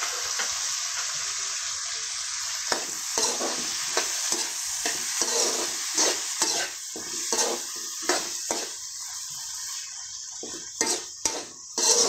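Shrimp and tomatoes sizzle in a pan as a steady bright hiss, interrupted by repeated utensil scrapes and taps from stirring, with no talk.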